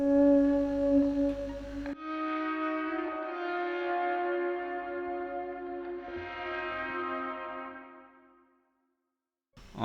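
Verse and chorus guitar swells through an Amplitube twin amp fade in as sustained, reverberant chords after a brief low tone, swelling gently before dying to silence.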